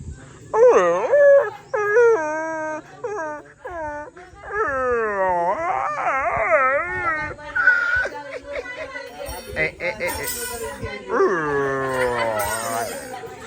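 A dog whimpers, yips and howls in long rising and falling cries, close and loud for several seconds, with people talking around it.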